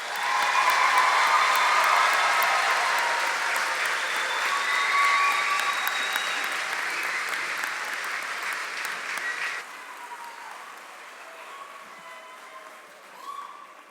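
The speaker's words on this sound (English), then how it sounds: "we may have another big round of applause for all the graduates" A commencement audience applauds the graduates with loud, sustained clapping from a large crowd that fills the hall, then thins and fades to scattered claps near the end.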